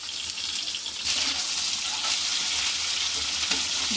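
Chopped onion frying in oil in a pan, a steady bright sizzle that swells slightly after the first second and holds at an even level throughout, with faint clinks of stirring.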